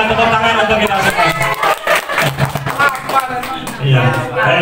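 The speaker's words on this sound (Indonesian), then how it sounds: "tepuk tangan untuk kita semua" Teachers in a school training session clap together. The quick, uneven group applause swells and fades over a few seconds, with voices and cheering mixed in among the hand claps.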